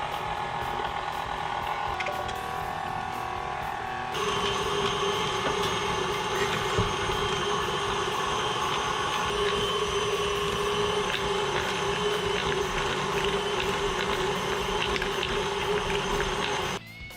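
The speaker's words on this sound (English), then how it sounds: "We're gonna start cutting our meat in small pieces so we can grind it." A meat grinder runs steadily while grinding beef, a continuous mechanical whir and grinding hum with a slight shift in tone partway through.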